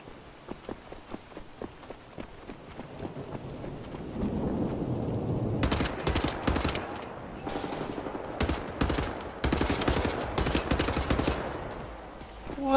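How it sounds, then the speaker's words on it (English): Gunfire in Wolfenstein: The New Order: a quiet start of scattered single shots builds into loud, dense bursts of rapid automatic fire with heavy rumbling impacts. "You're shooting at me, man."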